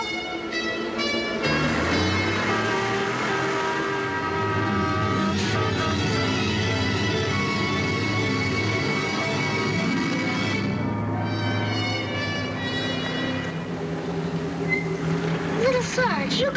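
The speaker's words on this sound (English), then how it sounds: "Sarge, watch out for that truck!" A truck drives past on a road, its engine a loud, steady droning rumble with a rich harmonic tone that carries on for many seconds.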